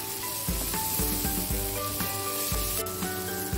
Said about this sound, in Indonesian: Nanti saya aduk-aduk ke sini.